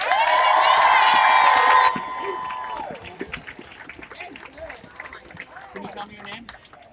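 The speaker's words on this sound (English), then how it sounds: "Make some noise for power to the people," A rally crowd roars and cheers loudly for about two seconds, then breaks into scattered whoops, claps and shouts fading to lighter noise, with voices calling out over it.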